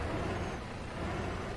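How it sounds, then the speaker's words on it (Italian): Truck engine in Euro Truck Simulator 2 droning loud and steady, a dense broadband roar with a low rumble underneath, continuous with no voices. "Senti questo motore."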